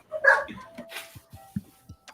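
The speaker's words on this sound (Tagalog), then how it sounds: "May aso dun aso ng landlord ko." A dog barking, a few sharp barks early on followed by soft, spaced low thumps and yips, fairly quiet and distant.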